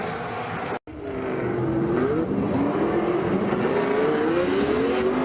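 A Formula Drift competition car roars off the start line at a 2014 Seattle round, a loud, close engine note climbing in rising revs for about five seconds after a short break in the sound, with tire noise under it.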